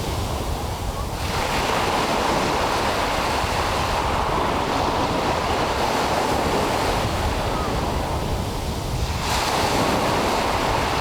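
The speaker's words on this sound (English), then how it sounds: "Really tuning in to all the intricate sounds that water can make, from rustling to bubbling, crashing" Ocean waves wash steadily onto a beach, a continuous broadband rush of surf with swells building and receding, close and fairly loud, some wind noise mixed in and no voices.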